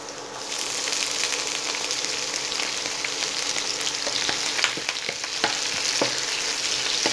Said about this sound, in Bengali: আদা আর রসুনটাকে 1 মিনিট ফ্রাই করে নেব।